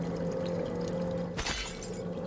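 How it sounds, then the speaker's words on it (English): Water pours from a water cooler in the video game Prey, with a steady trickling tone and a brief, louder splashing gush about halfway through. "Water cooler. Who doesn't like some water?"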